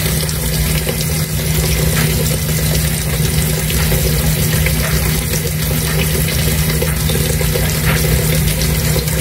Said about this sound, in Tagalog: So dagdagan pa natin ang tubig.